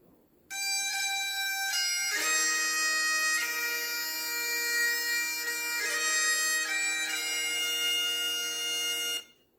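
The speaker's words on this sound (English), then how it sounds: "That was a bagpipe." Bagpipe playing a sustained reedy chord over a steady drone, loud and continuous with a few pitch shifts before cutting off, with no talking.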